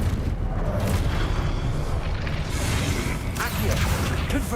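A Confringo fire spell goes off in Hogwarts Legacy, a dense rumbling blast with whooshing bursts and mechanical clatter filling the whole stretch, loud and close, with a voice calling out over it.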